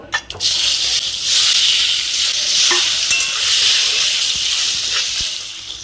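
Potatoes hit hot oil seasoned with turmeric and salt, with a brief splash followed by a loud, close, continuous sizzle that holds steady throughout.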